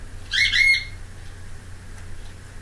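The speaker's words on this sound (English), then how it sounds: "I got sidetracked by the bird." A bird gives one loud, harsh squawk of a few rapid notes close by, then the room falls back to a low hum with a faint chirp afterward.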